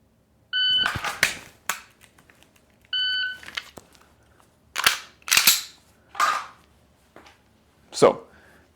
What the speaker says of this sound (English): So let's go through some dry fire here.